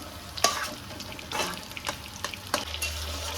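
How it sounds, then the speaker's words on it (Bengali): Gentle sizzling of Bombay duck fish frying in a pan, broken by a few scraping clinks of a utensil stirring, all close and fairly quiet. "এটা একটু নাড়তে থাকি, ভাজা হয়ে গেলে তখন মশলাটা দেবো"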